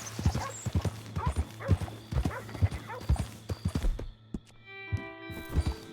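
A horse in Red Dead Redemption 2 is ridden up a hill, its hooves clip-clopping in a steady, close rhythm. The hoofbeats break off briefly near the end before a few more steps.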